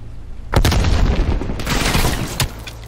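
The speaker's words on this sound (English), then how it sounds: "Grenade." A grenade explodes in the Call of Duty: Black Ops Cold War campaign, a loud, close boom that rumbles on for about two seconds and ends in a sharp crack, with no voices over it.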